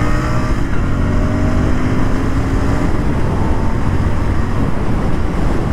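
A BS6 Interceptor 650 motorcycle engine roars loudly and accelerates, its rough, throaty rumble building over several seconds without any speech.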